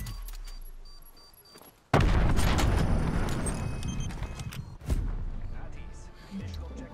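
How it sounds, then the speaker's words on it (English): A grenade launched and exploding in a video game: a sudden heavy boom kicks in and rumbles on, then a second loud blast follows a few seconds later, with voices in the background. "Bro, the fact that you can launch a nade like that is insane to me."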